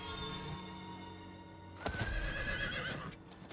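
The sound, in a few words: horse neighing in the video game Diablo IV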